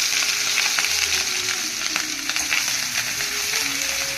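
Chili, ginger and garlic sizzle and fry in hot oil in a pan, a steady loud crackle throughout with light stirring, no talking.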